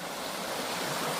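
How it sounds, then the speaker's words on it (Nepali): A small stream flows under a little bridge, a steady, soft rushing of water that continues evenly throughout. "खोला पानी त निकै पाइरहेको छ त।"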